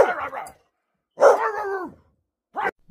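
A few short, separate barks with brief pauses, close and clear, with no talking.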